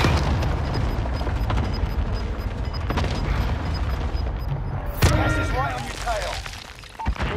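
Precision airstrike explosions in a first-person shooter video game, heavy booming blasts and rumbling impacts, with a sharp loud hit midway, heard under voices talking over the action.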